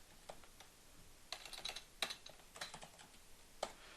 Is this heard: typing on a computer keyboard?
yes